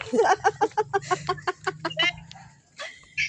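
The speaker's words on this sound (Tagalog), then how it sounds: "Ay manok." A rapid series of short clucking notes from a chicken, fairly close, followed by a brief pause and a few scattered calls, with a low hum beneath.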